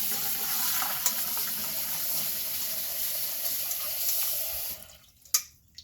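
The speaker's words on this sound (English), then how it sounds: "So we're just going to rinse these. I like to rinse them twice." Water runs steadily from a kitchen tap as cut potatoes for French fries are rinsed in a bowl, a constant close splashing stream that cuts off near the end, followed by a couple of brief drips and clinks.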